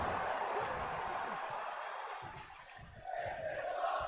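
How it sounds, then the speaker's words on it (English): Crowd chanting in the WWE 2K24 wrestling video game, a loud, continuous arena roar of many voices in rhythmic chant, filling the whole stretch with little pause. "The crowd are chanting, "This is awesome.""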